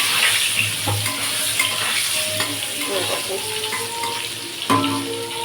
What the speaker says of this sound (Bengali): পটল তারপরে আলু আর কুমড়ো ভেজে রাখবো একবারে